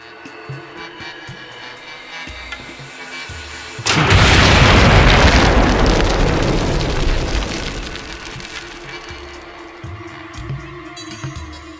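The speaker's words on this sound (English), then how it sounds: "We have the dynamite detonator. Let us detonate." A dynamite detonator blowing up a wall in the video game Siren: Blood Curse: after quiet game ambience, a sudden loud boom erupts into a long rolling, crackling blast that slowly fades over several seconds.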